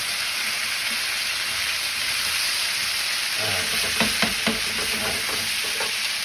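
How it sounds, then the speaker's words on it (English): Onions frying in a pan, a soft steady sizzle that picks up partway through with brief crackles and stirring clatter, close and alone with no talk. "The onions are starting to cook."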